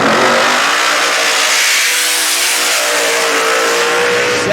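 Methanol-fueled Hemi engine in a 2006 Mustang drag racing funny car at a raceway, an extremely loud, sustained roaring rev that holds steady and fills the whole span, with no voices.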